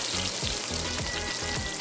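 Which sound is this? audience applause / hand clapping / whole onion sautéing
whole onion sautéing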